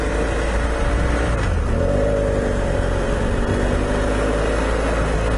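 A motorcycle with a worn, slipping clutch pulls away, its engine holding a steady loud drone that rises slightly in pitch as it gathers momentum, heard close with constant road rumble and no talking.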